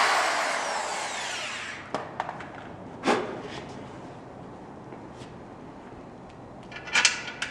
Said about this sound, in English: go ahead and drill your second back hole.